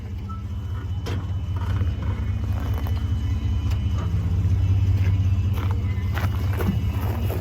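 Vehicle engine idling and rolling slowly onto a tire to break its bead, a steady low rumble throughout with a few faint knocks and clicks, no talking.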